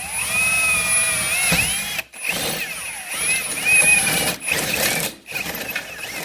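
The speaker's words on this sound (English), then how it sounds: "before you try and just drill blindly into the plastic" A power drill whines at high speed in several bursts, pitch rising and falling as it bites into plastic on a 2018 Can-Am Maverick Alpine, with short pauses between runs.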